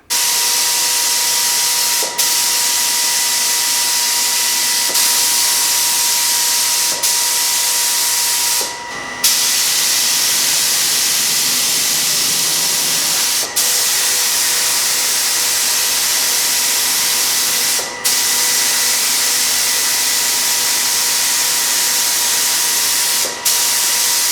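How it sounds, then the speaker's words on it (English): Aerosol primer and paint spraying onto a wooden corner TV stand, a steady close hiss lasting nearly the whole time, broken by a few brief pauses between passes. "I first started off by spraying on 1 coat of primer, and then I went and did 3 coats of paint."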